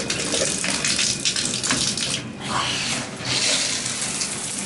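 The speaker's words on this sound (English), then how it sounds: "I'm just going to look at the hot water pressure here for a second." Hot water gushes steadily from a bathroom tap into a sink or tub, a close, continuous rushing flow with only slight shifts in strength and no talking.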